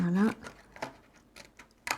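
Cutting through a large cardboard milk carton on each side of a fold, a few short crisp snips spaced apart, close and fairly quiet, with a voice briefly at the start.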